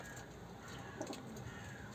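A pair of Şeytan Tepe miski pigeons cooing softly and faintly in a loft, a couple of low coos near the middle over quiet background noise.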